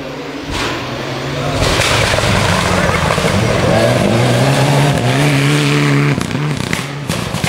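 A Mitsubishi Lancer Evo 9 rally car engine revs loudly and close, climbing and holding high pitch with rising harmonic sweeps, then dropping off near the end.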